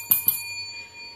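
Two quick bright rings of a small bicycle-style bell, struck twice in rapid succession, each leaving a short shimmering tail over a quiet background with no voices.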